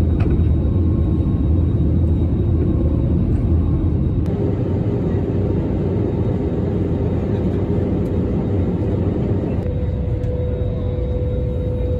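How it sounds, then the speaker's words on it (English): Steady airplane cabin noise on a flight to Santorini: a loud, constant low roar and whir that continues with a few faint higher tones. "We are on the plane."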